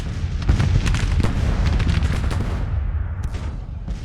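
Battle gunfire in Grand Tactician: The Civil War. Dense musket volleys crackle with deep artillery booms in a continuous loud barrage, then thin out to scattered shots near the end.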